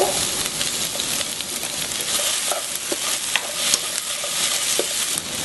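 Chunks of radish and potato stir-fry in a hot pan, giving a dense, continuous sizzle with frequent scraping and clicking from stirring, close and fairly loud, with no voices.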